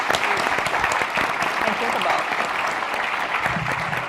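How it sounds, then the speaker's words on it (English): Audience at a general session panel applauding the panelists, loud sustained clapping from a large room that fills the whole clip with a little crowd noise underneath. "Another big round of applause."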